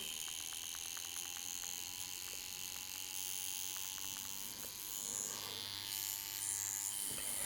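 A Pepax Leve H2 tattoo machine fitted with a 9 needle runs with a steady high electric buzz and faint rhythmic ticking, heard close and alone.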